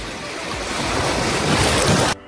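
Sea waves break and wash steadily onto the shore at Vengurla beach, a loud continuous roar mixed with gusty wind noise that swells toward the end before cutting off abruptly.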